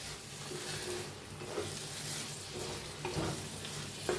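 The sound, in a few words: stirring cooked ridge gourd vegetable in pan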